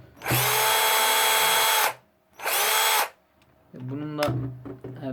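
A Bosch cordless drill whirs in two loud bursts, the first longer, then a person speaks briefly afterward.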